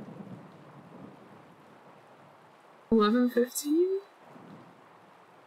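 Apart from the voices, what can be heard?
rain and thunder in The Legend of Zelda: Tears of the Kingdom video game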